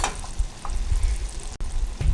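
Flavoring is stirred into lollipop candy syrup heated to almost 300 degrees: a low bubbling rumble with a few soft clinks and scrapes of the stirring, close up, and one brief sharp cut partway through.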